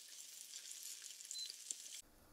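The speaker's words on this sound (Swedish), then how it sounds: "Så är det dags att bryna. Ska vi köra i nya kolstålspannan." Kobe beef searing in a new carbon steel pan, a steady loud hiss and crackle of frying fat for about two seconds before it cuts off abruptly.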